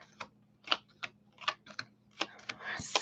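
Tarot cards shuffled close by in quick bursts of papery flicks and taps, irregular clusters of short crisp clicks over a quiet background hum, with no talking.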